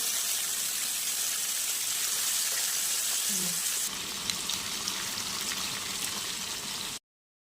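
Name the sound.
fish frying in oil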